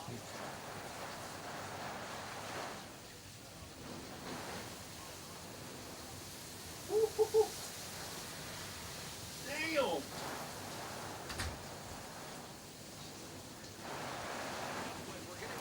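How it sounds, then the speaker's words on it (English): Wind rushes steadily outdoors in broad gusty swells, with a few short voice bursts breaking through the noise. "it's a little windy out there"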